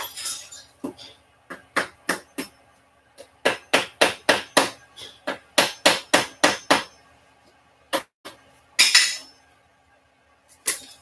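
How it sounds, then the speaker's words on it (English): Repeated hammer blows during a hobby build of a toy pistol, sharp close strikes in quick irregular bursts with short pauses between, alone without talk. "Now I have to get a hammer."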